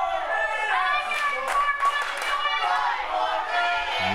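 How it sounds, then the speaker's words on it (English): A wrestling crowd at an indie show chants in rhythmic unison, voices rising and falling together with claps in time, loud and close throughout. "You hear them chanting 5 more minutes."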